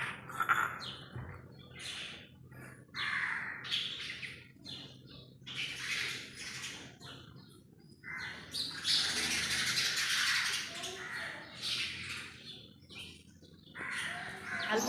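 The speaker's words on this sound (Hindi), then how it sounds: "पक्षियों का संगीत गुणगान बहुत सुंदर सा लगता है।" Birds at the Veneshwar temple near Somnath, Gujarat chirp, tweet and caw in lively, overlapping bursts with brief lulls, fairly close and loud, against quiet surroundings.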